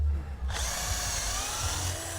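A power drill bores into wood. It starts abruptly after a brief low thump and holds a loud, steady whirring whine close by, with no talk.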